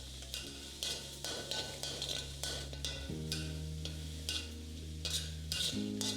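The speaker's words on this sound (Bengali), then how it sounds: "আর কাঁচা গন্ধটা একটু চলে গেলেই তার মধ্যে আমি দিয়ে দিচ্ছি কুচনো পেঁয়াজ" Chopped onion fries in a pan for egg fried rice while a utensil stirs it, making a soft sizzle broken by repeated scraping strokes against the pan.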